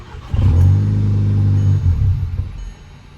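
An Audi engine with an aftermarket intake cranks and catches with a loud, close rumble, runs roughly for about two seconds, then dies away to quiet.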